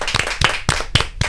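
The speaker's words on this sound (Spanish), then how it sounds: "señores, con un fuerte aplauso." A small group applauds on a television political talk show, and the claps land in a few distinct, uneven bursts.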